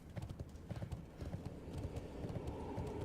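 Undead horse hooves clip-clopping in World of Warcraft: Wrath of the Lich King, a steady, quick rhythm of close, soft hoofbeats that run alone throughout.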